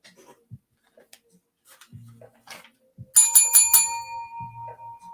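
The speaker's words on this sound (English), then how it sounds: "just checking the bell." A doorbell-style bell rung in a quick burst of several bright rings, then fading, after sparse scattered sounds and a few spoken words; loud and close.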